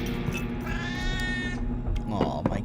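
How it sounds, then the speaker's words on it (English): A house cat meows twice, a long drawn-out cry and then a shorter one, close and fairly loud over steady low background sound and a murmuring voice. "Oh, my cat."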